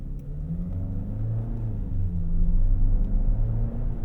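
A 2025 Nissan Murano Platinum accelerates on the road, heard from inside the cabin as a steady low engine rumble with rising drone and road noise that swells slightly midway, no voices.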